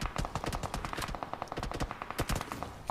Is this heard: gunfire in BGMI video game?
yes